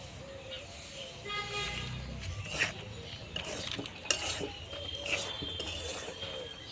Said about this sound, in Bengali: খুন্তি দিয়ে এইভাবে নাড়তে হবে আর সুজিগুলোকে দিতে হবে।